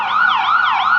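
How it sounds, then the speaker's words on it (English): An ambulance siren wails in a steady rising-and-falling cycle on a street, loud and close, with no voices over it. "Oh, is that a fire engine? No, it's an ambulance, I mean."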